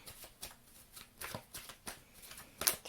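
Oracle cards shuffled and pulled by hand, a run of quick papery riffles and flicks in an irregular rhythm, close and fairly soft, ending in a sharper snap.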